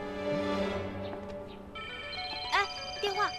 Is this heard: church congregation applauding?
no